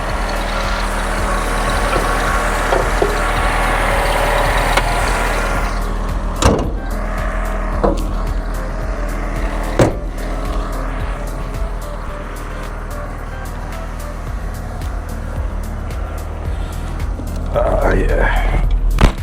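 A cheap flip car or truck is started and driven away, with a steady engine rumble, door and window clunks, and a few sharp knocks, while people talk over it nearby.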